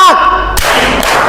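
A group claps hands in a rhythmic clapping game, giving a sharp loud slap followed by a dense burst of clapping in a room.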